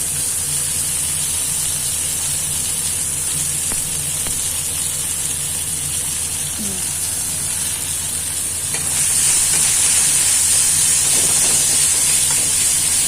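Onions hit hot oil tempered with five-spice while cooking a mourola fish chorchori, giving a loud, steady, close sizzle that swells stronger partway through.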